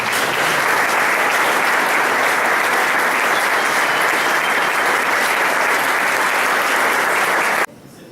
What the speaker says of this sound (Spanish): Agradecemos con un aplauso al Padre Capeta.